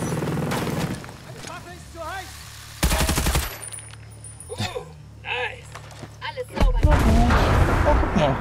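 Bursts of gunfire and explosions in a video game, with loud blasts near the start and end separated by quieter stretches, while voices talk over parts of it.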